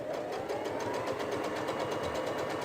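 A repaired Brother SF100 sewing machine runs a test stitch, a steady fast mechanical whirring with even rhythmic ticking, close and continuous without speech.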